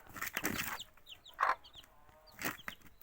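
A hen and her chicks on a farm, with soft clucks and brief high peeping chirps scattered across a few seconds, fairly close but quiet.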